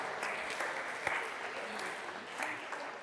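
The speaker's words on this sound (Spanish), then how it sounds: "Démosle un aplauso, por favor, a Claudia." A room full of people applauding, a dense steady clatter of clapping that continues throughout at moderate volume.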